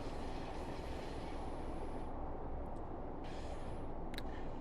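A GWR Class 150 diesel train in Train Sim World 6 rolls steadily along the rails, a loud continuous rumble from the running gear with faint brief squeals above it, and no talking.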